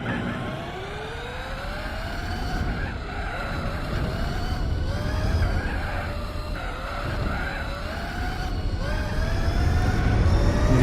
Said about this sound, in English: if you listen to the tyres now, you can feel them biting into the circuit and just like scratching repeatedly